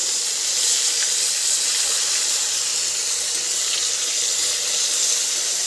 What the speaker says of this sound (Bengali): মাছ এক পাশে ভাজা হয়ে গেছে এবার একটু উল্টে দেবো